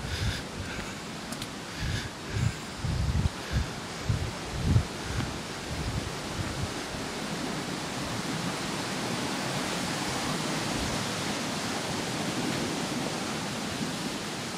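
River flowing beside a woodland walking path, a steady broadband rush of water that continues throughout, with footsteps and handling thumps audible near the start.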